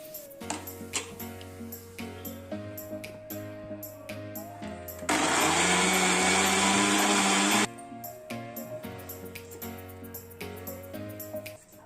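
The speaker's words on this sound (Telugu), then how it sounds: "పపాయాను తీసుకొని పై చెక్కు తీసి చిన్న చిన్న ముక్కలుగా చేసి మిక్సీ జార్లో వేసి మిక్సీ పట్టుకోవాలి." Mixer grinder blending peeled papaya pieces in its jar, a loud steady whirring burst lasting a few seconds in the middle, set against quiet background music before and after.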